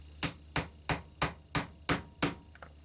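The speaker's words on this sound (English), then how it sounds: "I'm going to tap those pins in a little bit deeper" A small hammer tapping pins into wood: seven evenly spaced, sharp light taps, close and distinct, with a quieter double tick at the end.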